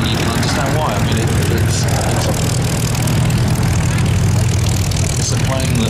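A vintage propeller warplane that first flew in 1940 drones at an airshow, a steady, loud engine hum throughout, with a voice talking over it.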